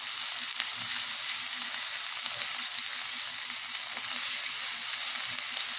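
Beans and vegetables sauté in a hot pan, giving a steady, close sizzle and frying hiss that runs evenly throughout with no talking.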